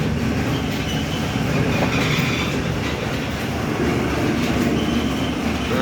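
A mustard oil mill machine pressing seeds in a village market in Panchpir, running with a dense, steady mechanical roar and rhythmic clatter throughout.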